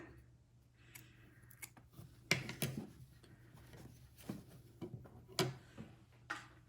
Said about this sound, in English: I don't really like those frayed edges there, so I'm going to trim it off.